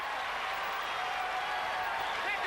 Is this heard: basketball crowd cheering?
yes